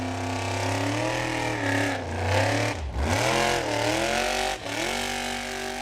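Icelandic formula offroad car called the Viking revving hard, its engine rising and falling in pitch through several throttle blips, loud and close.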